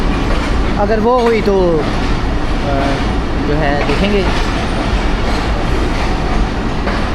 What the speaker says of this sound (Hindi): शायद एक नई ट्रेन की आवाज़ है। सुना तो यही है कि शाह सवार एक्सप्रेस है।